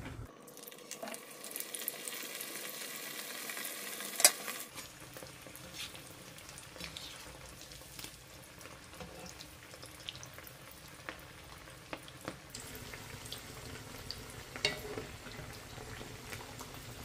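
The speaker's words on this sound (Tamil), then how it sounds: "எண்ணெய் சூடாகிடுச்சு. ஒரு 4-5 பீஸாக போட்டு ஒரு தடவை ஃப்ரை பண்ணிவிட்டு எடுத்துகிட்டு" Pieces deep frying in hot oil, a continuous soft bubbling sizzle with occasional small pops, close but fairly quiet and unbroken, with no voices.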